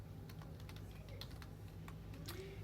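Data values being typed on a computer keyboard, a steady run of light, quick key clicks in close, even rhythm over a constant low hum.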